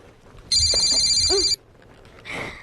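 A telephone rings once with a bright, electronic trill lasting about a second, followed by quiet room sound and a brief soft noise.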